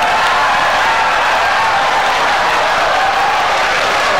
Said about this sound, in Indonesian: kalau ada yang mau tepuk tangan silahkan